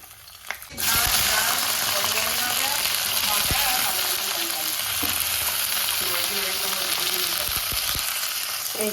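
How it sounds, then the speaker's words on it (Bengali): Vegetables for Bengali shukto fry in hot oil in a pan. A loud, continuous sizzle starts abruptly after a brief quiet moment and holds steady, with scattered clinks and stirring sounds throughout. "তাই জন্য আমি আলাদা আলাদা করে সব ভেজে নিচ্ছি"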